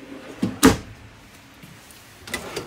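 A deep, low drawer in a 2020 Forest River FR3 32DS Class A gas motorhome slides and bumps shut with a short thud, followed by quiet, then another faint knock.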